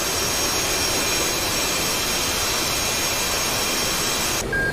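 F/A-18F Super Hornet jet engine at military power in the DCS flight simulator, a loud steady roar and broadband rush sustained throughout, cutting off abruptly near the end.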